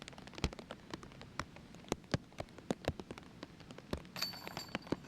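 Rain falls on an outdoor disc golf course, heard as scattered close drips and taps landing irregularly over a soft background hiss.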